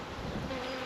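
Dark honeybees at an open hive after smoking, a dense, continuous buzz of many bees close by with a steady drone and no voices.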